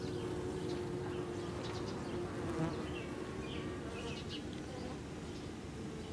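Honeybees buzz around a nuc box hive in a soft, continuous hum. Scattered faint higher whines pass close by over a steady low background.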